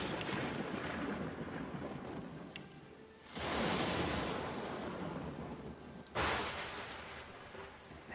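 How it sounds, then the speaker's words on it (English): Tabletop game session ambience of a thunderstorm, with steady heavy rain and two loud rolling thunder cracks that swell and slowly fade, each dominating the downpour. "the storm's so loud"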